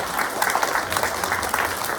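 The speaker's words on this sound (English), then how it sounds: "A big round of applause for these superstars." A school assembly crowd claps in a steady, dense round of applause for a couple of seconds, close and continuous.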